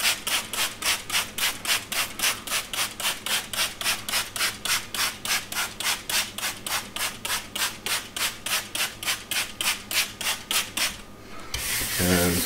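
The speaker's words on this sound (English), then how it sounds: "And scrub away." Steady back-and-forth scrubbing on a wet concrete countertop, a loud, rhythmic rubbing of roughly two strokes per second that runs for about eleven seconds before stopping abruptly.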